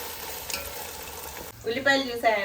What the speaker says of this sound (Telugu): ఇప్పుడు ఇది మొత్తం బాగా పచ్చి వాసన పోయే వరకు వేగనిద్దాం.